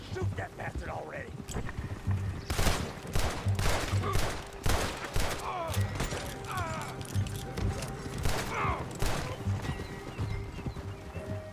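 Gunfire in Red Dead Redemption 2 during a standoff with United States Army soldiers: several loud sharp shots and a quick volley amid horse hooves and whinnies, with voices talking between the blasts.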